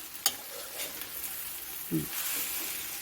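Metal scraping and shuffling as egg fried rice is stirred in a wok over a steady low sizzle on medium heat, with a few brief clinks and stirring strokes.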